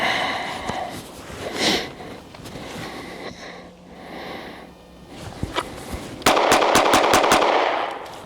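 On a South Dakota range, six rapid pistol shots crack out in a quick, even string near the end, after a stretch of breathing, shuffling and quiet handling sounds.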